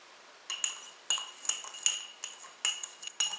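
Metal tool stirring and tapping against a calcite inlay in a wooden star while the alcohol burns off, light clinking scrapes in irregular bursts, close and clear against a quiet background.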